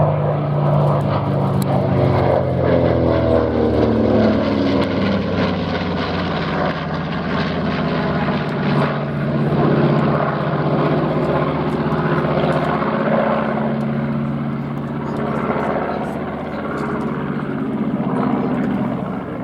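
A B-25 bomber makes a pass at an airshow, its loud piston propeller engines roaring steadily and shifting in pitch as it flies by, with no talk over it.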